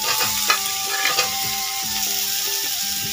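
Pointed gourd (potol) frying in a pan alongside potatoes, with a continuous sizzle broken by repeated scraping strokes of a spatula stirring the pieces, close and fairly loud, with no talk.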